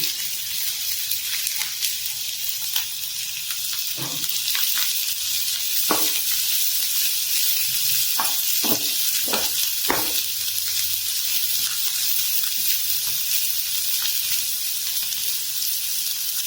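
Chopped onions and green chillies go into hot oil with cumin seeds in a pan, a continuous loud sizzle with scattered clinks and scraping from stirring.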